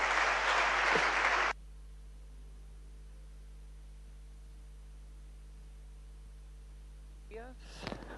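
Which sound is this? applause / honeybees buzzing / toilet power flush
applause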